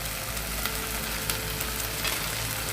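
Fish eggs cooking in a pan with garlic and ginger paste give a dense, even sizzle with faint stirring scrapes, close and continuous, and no talking.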